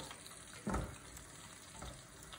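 Garlic and chili frying gently in a pan, a soft, steady sizzle with one brief louder crackle or stir, heard close and fairly quiet.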